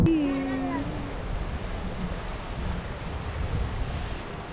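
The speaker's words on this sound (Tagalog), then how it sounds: "Ang ganda ng alon." Ocean waves wash against the shore in Toyama, Japan, within sight of the Tateyama mountains, as a steady, broad hiss of surf mixed with wind. A voice briefly sounds at the very start.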